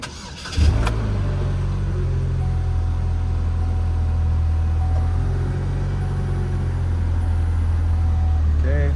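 A 2007 Saturn Sky fires up from cold: a short cranking burst, then a steady, loud idle that holds close by for several seconds.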